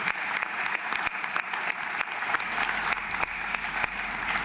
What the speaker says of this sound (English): Can we clap hands for the Democratic Republic of Congo and the people?